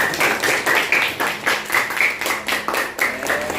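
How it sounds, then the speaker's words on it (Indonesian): A classroom of fifth-grade students claps for a classmate after she answers, a close, busy patter of many hands in uneven rhythm that carries on steadily, with faint voices underneath. "Ya, tepuk tangan buat Sanur."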